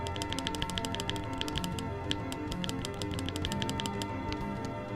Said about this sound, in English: You like the keyboard clicking sounds?